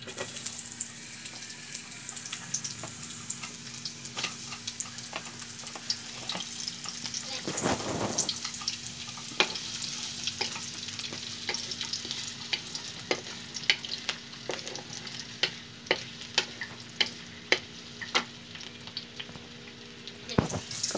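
Onion sautés in a hot pan with a steady sizzle and frequent sharp crackles and pops, plus a brief stirring scrape, heard close up with a faint voice now and then.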